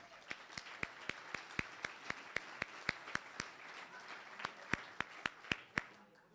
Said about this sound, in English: I think we better have another round of applause for Kurt, don't you?